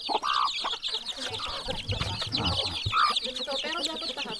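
Chickens cluck in repeated short bursts at a farmyard feeding area, fairly close, with people talking over and between the calls.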